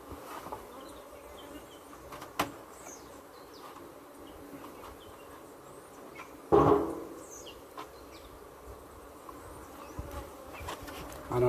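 Honeybees hum faintly and steadily at an opened beehive with a super on top, a low continuous buzz with a few louder bees passing close to the microphone and soft bird chirps in the background.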